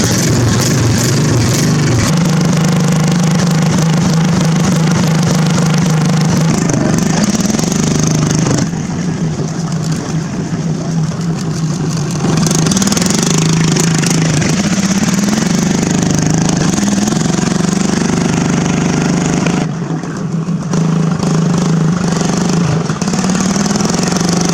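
A racing lawn mower engine runs after a cold start, with a loud, steady mid-pitched roar close by. It dips briefly around the middle and near the end, then picks back up.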